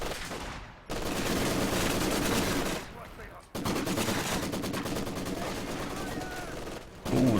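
Maxim and MG42 machine guns firing between garrisons in urban Company of Heroes 2 combat, long sustained rattling bursts broken by short pauses, loud and continuous with distant battle noise.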